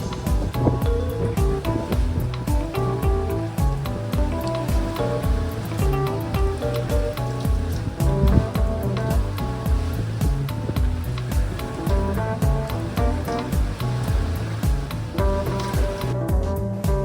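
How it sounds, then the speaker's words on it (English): Storm waves roll into the harbor at Nouméa, New Caledonia, driven by strong wind in bad weather, making a steady, dense rushing wash that continues without pause and with no talk over it. "even in the harbor the weather is terrible, and also with the wind from this direction the waves directly roll in"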